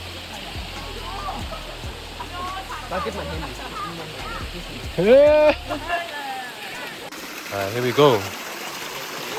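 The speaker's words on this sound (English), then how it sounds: "This is the Sticky Waterfall." Water pours steadily over the rocks of a waterfall locals call the Sticky Waterfall, a continuous close rushing wash, with voices talking and calling over it.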